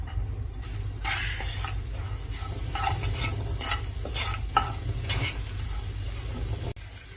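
Oil sizzles steadily in a frying pan with salt and chili added for a tempering, while a utensil stirs and scrapes in repeated bursts close up; no one talks.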